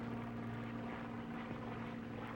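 P-51 Mustang propeller aircraft in flight, a low, steady engine drone with a constant hum, faint and distant, unbroken and with no voices.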